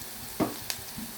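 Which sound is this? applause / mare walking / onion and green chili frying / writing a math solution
onion and green chili frying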